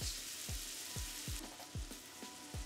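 Garlic and onions frying in a pan over low heat give a steady soft sizzle, with a repeating low thump roughly every half second throughout.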